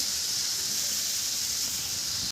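Water spinach (kolmi) frying in a pan, a steady broad sizzling hiss held at an even level throughout, close and unbroken, with no talk over it.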